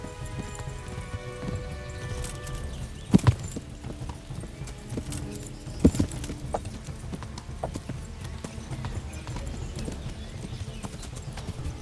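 Horse hooves clip-clopping in Kingdom Come: Deliverance, a steady trotting rhythm close and clear throughout, with a couple of sharper hoof knocks and a faint neigh, no talk over it.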